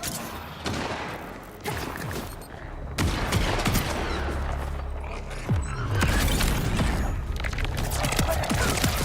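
Rapid sniper gunfire in the video game Borderlands 4, a dense layered stream of shots and impact effects over continuous game noise, with a few sharp louder bursts standing out.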